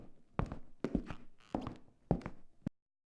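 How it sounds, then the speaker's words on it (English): Footsteps in the horror video game Extinction: four or five heavy, spaced thuds in an uneven walking rhythm, fairly close and fairly quiet, followed by a short sharp tap and then silence. "You hear footsteps."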